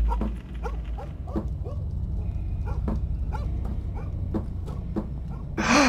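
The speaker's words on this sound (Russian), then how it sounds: "Собаки." Dogs bark from a television playing in another room of a house, a run of sharp yaps repeating at steady intervals over a low hum, fairly faint and with no talking.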